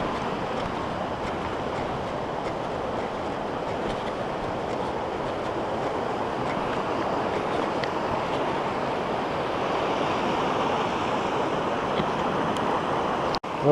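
A river flows along a hiking loop near Malmedy, its peat-tinted water producing a steady, broad rushing wash that stays constant and fairly close, with no voices.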